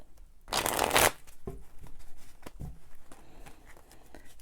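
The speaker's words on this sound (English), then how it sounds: "take the action deck and give that a shuffle." A deck of cards for the board game City of Chaos, made of thin glossy card, shuffled in one quick, loud riffle that fades into soft card handling and light taps, with no talking.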